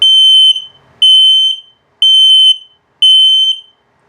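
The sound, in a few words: RV gas detector slow low-battery alarm beeping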